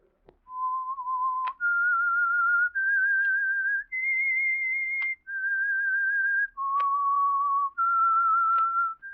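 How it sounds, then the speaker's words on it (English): A lone whistler performs the signal tune of the 1947 radio drama The Whistler, a clear, unaccompanied melody of about eight sustained notes that rise and fall, each note held steadily with short breaks between. "That whistle is your signal for the Signal Oil Program,"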